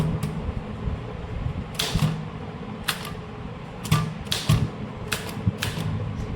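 A demi-official letter is typed on a typewriter: irregular bursts of sharp mechanical clacks with short pauses between keystroke runs.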